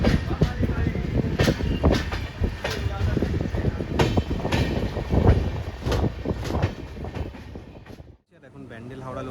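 A local train's wheels clatter over rails near a station, loud rhythmic clicks and thumps repeating steadily before the sound drops away abruptly near the end.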